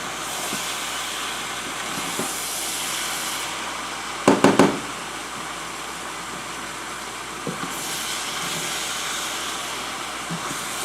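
Fried cabbage and ham sizzle steadily in a pan, a broad hissing spatter, with a brief burst of clanking knocks as the mix is stirred midway and softer scrapes later.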